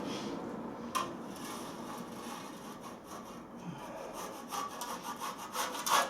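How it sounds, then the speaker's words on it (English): A scraper drags steadily across a lath-and-plaster wall to take off excess plaster, making a continuous close, rasping scrape that swells slightly toward the end. "I can see that there's a bit of thickness here, so I'm just going to bloody scrape it off"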